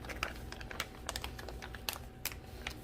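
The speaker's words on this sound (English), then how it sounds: "You can hear it really clicking well" Repeated sharp clicks from the one-way valve of a vacuum seal bag as air is pumped out for sous vide steaks, irregular and fairly close over a steady low background hum.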